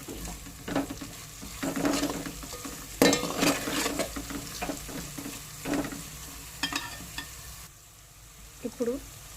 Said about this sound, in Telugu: ఇప్పుడు 1/2 టీ స్పూన్ పసుపు వేసుకుందాం. వేసుకొని ఒకసారి కలుపుకుందాం.